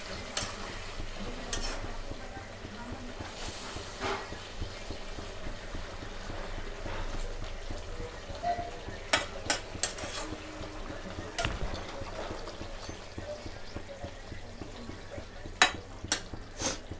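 Fried tangra fish being stirred into a simmering spiced sauce in a pan, with soft scraping stirs, occasional clinks of a utensil against the pan and a faint bubbling sizzle underneath.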